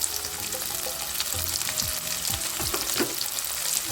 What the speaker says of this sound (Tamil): கொஞ்சம் வெங்காயம் வதங்கிடுச்சு கருவேப்பிலை ஊற்றலாம்